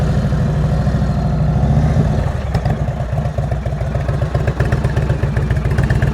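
A motorcycle engine runs steadily at low revs during slow-speed riding practice, a close, continuous throbbing with slight throttle variations and faint clatter, no talk over it.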